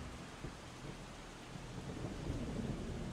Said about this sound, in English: Let's hope this rain shit stops